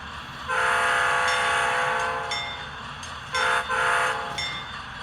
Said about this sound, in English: the horn on this is much louder than the prime mover